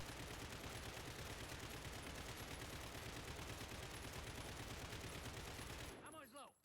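A customized RPK light machine gun in the Modern Warfare video game fired as one long unbroken automatic burst, loud and close with rapid steady shots, then cut off in the last second as spent casings clink.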